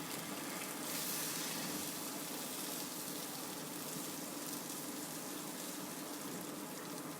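Egg chingari cooking in ghee in a pan, a continuous soft hiss and sizzle that stays fairly even and quiet, with no voices.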